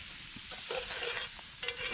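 Onion frying in butter in a pan at a cold-weather campsite, a steady bright sizzle with occasional stirring scrapes, close and continuous without talk.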